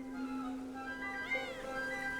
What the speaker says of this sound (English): Passing a disabled tank, Hatch heard this kitten's cry